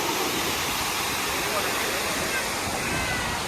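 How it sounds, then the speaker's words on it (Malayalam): A waterfall beside the road to Athirappilly roars loud and steady throughout, a dense unbroken rush of falling water with no pauses. "നല്ലതായിട്ട് വെള്ളച്ചാട്ടം കൊണ്ടേക്ക് നല്ല അടിപൊളിയായിട്ട് ചാടുന്ന വെള്ളം"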